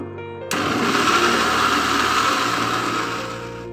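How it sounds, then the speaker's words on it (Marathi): A mixer grinder whirs at high speed, grinding paan mukhwas ingredients with licorice powder: an abrupt start into a loud, steady motor whine that holds for several seconds with no talk. "हे सगळं आपल्याला टाकून सगळं फिरवून घ्यायचं आहे मिक्सर मधून।"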